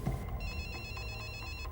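A mobile phone rings from inside a jacket pocket, a repeating electronic tone that sounds muffled and fairly quiet over a low background rumble.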